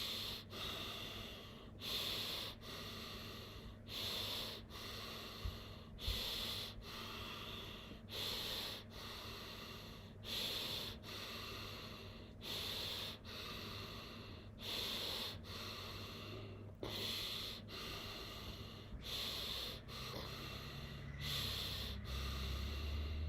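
Slow, rhythmic breathing in and out through the nose during a guided breath session, about a dozen soft airy cycles with steady pacing, close and fairly quiet over a low background hum.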